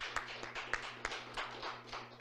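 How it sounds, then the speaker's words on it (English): Light scattered clapping from a modest workshop audience thanking the host, Marvin Community House, with distinct individual claps over a low background hum. "Please give them a round of applause."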